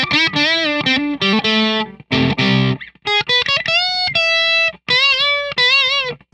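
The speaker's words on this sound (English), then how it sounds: "it just sounds like a regular distortion pedal" An electric guitar through a plain distortion pedal, germanium fuzz off, plays short chopped chords and sustained notes, loud and gritty with buzzing overtones, separated by brief gaps.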